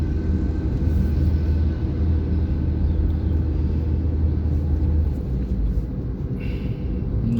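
Delhi road traffic with auto rickshaws, heard as a continuous loud rumble of engines and tyres that stays steady from start to finish, with no clear horns standing out and no voices.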